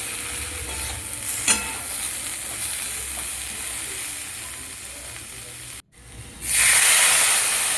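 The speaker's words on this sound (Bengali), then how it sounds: "এবার ভালো করে এগুলো মিশিয়ে নিচ্ছি।" A spoon stirring ginger-fennel paste, salt and turmeric into gandal leaf curry in a pan, with a steady soft sizzle and scraping, a brief dropout near the end, then a louder hiss as the mixture fries.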